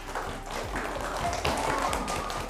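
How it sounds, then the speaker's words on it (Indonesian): Students applaud a group named Alfat in an Islamic religious education class: a continuous, busy clatter of many hands clapping together, moderately loud and even from start to finish. "Tepuk tangan untuk kelompok Alfat."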